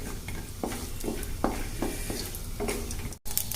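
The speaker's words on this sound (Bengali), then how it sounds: "দিয়ে এগুলোকে একটু হালকা ভেজে নেব।" Nuts lightly frying in hot refined oil in a pan, a steady soft sizzle with intermittent stirring scrapes and clinks, close and alone without talk, briefly cut out near the end.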